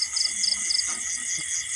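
Crickets chirp at night around eight o'clock near a light set out to attract mole crickets and crickets, a steady high trill with rapid repeating pulses, close and continuous.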